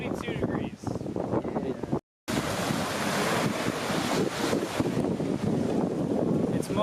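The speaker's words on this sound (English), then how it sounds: "The wind is 14 miles an hour coming from the south." Wind blowing at Lake Maxinkuckee, a steady broadband rush with gusts and microphone buffeting, loud and close throughout, with a brief dropout near the two-second mark.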